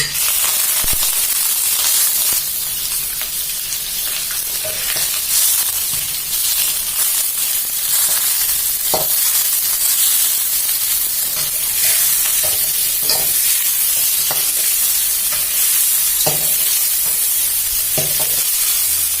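Shrimp and chopped garlic stir-fry in a few tablespoons of hot oil, making a loud, steady hissing sizzle. Sharp scrapes and clicks of a spatula against the pan cut through it now and then, with no voice.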